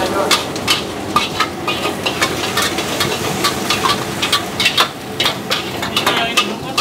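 Food sizzles steadily in a pan in a small shop kitchen, with frequent light scraping and clinks of utensils stirring it throughout.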